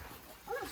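Mother dog gives a faint, brief whimpering whine at close range, a short high cry rising out of quiet background.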